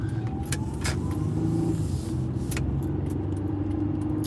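A BMW car rolls past with a steady engine hum and road noise, fairly close and continuous, with a few sharp clicks and knocks scattered over it.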